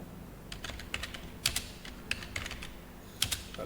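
Fingers type code on a computer keyboard in quick, uneven bursts of close, crisp key clicks, with short pauses between flurries and no voices.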